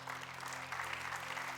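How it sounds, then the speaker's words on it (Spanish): A church congregation applauds together in a short burst of dense clapping, steady and fairly distant, with a low electrical hum underneath. "dale un fuerte aplauso al Señor"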